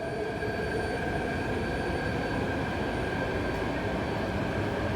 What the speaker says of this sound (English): Now we get a full K train driving to the depot.